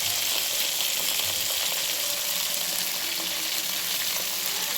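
Eggplants drop into hot oil for a masala baingan dish, producing a dense, loud, unbroken sizzle and crackle throughout, close and steady with faint stirring.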